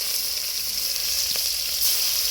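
Chopped onion goes into hot oil in a home kitchen pan for a bottle-gourd stem chorchori, giving a steady, close, bright sizzle that holds level throughout, with a slight swell near the end and no voices.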